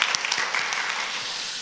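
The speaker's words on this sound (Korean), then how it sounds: "우리 박수로 환영하도록 하겠습니다" Applause in a church welcoming someone, a steady wash of many hands clapping throughout the brief moment, fairly close and even in level.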